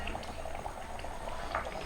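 A pot of Kerala sardine curry bubbles steadily at a soft, close simmer, with small pops and gurgles rising continuously and no voices.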